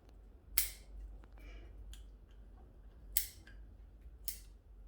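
Cutters trimming shoots on a large Chinese elm bonsai, three crisp, sharp snips spaced a couple of seconds apart, close and clear against a quiet background.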